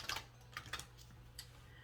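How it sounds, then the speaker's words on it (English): A deck of cards being shuffled by hand gives a few quick crisp riffling clicks and flutters in short bursts, soft and close, with quiet background between them and no speech. "One more shuffle, and then we'll cut and we'll refer to the bottom of the deck"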